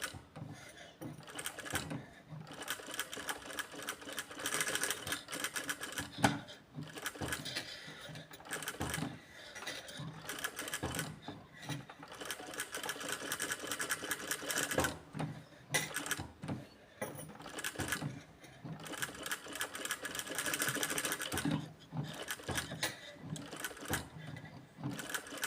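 A sewing machine stitches practice seams on fabric, whirring steadily nearby in long runs broken by short pauses where the presser foot is lifted and the fabric turned.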